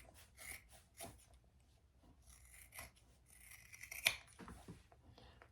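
Scissors snip away excess fabric beside a 1/4 inch seam on a shoulder bag, giving a series of quiet, close, crisp cuts spaced irregularly with soft rustling in between.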